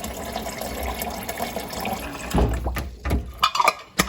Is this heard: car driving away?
no